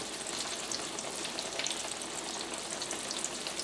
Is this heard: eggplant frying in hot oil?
yes